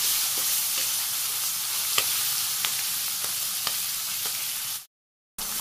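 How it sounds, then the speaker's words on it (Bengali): Shing fish frying in hot oil, a steady crackling sizzle broken by repeated sharp taps and scrapes of a spatula turning the pieces, ending in a brief dropout of silence before the sizzle returns. "মাছ দিয়ে দিলাম ঝোলে শিং মাছ, নেড়ে চেড়ে ছড়িয়ে দিই"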